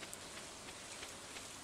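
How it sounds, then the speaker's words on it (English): Gentle rain falls steadily in the Stardew Valley video game, a soft, faint, even hiss of drops with no voices. "a warm rain is a pleasant way to get clean"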